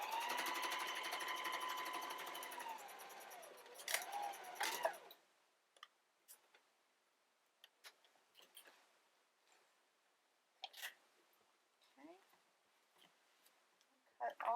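Sewing machine stitching fabric along the side of a homemade quiet busy book with a zipper foot, a steady close whirring run for about five seconds that then stops, followed by scattered handling clicks and soft rustles.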